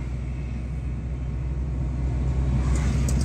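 A used car engine revs with rising RPM but no gain in speed, a low steady rumble that grows slightly louder toward the end, heard from inside the vehicle.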